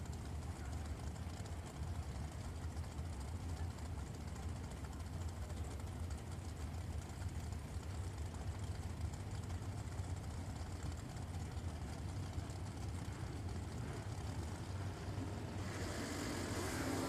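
Dragsters running at Richmond Dragway during an I-95 Series race, a steady loud roar of engines heard from a distance across the full length, with a brief brighter surge near the end.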